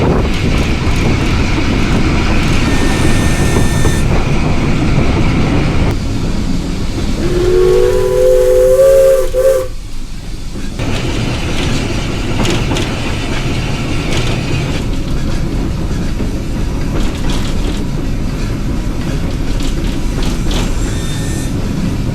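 A steam train rumbles and chuffs steadily at close range running downhill on a steep line, with a long steam whistle sounding midway before the clattering run continues.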